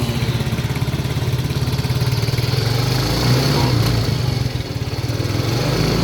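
A Yamaha Mio i125 scooter engine idles steadily after a throttle body cleaning, its even low putter running continuously close by with no misfires and a brief swell near the middle.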